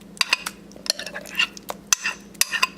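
Cottage cheese and cornstarch are scraped into a bowl with a utensil, giving close, irregular metallic clinks and short scrapes against the dish in quick bursts.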